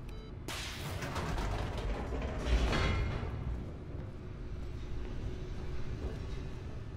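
A large mechanical door grinds open in the video game The Stanley Parable, a loud sustained rumble with a heavy surge midway, continuing as a low mechanical drone with no talk over it.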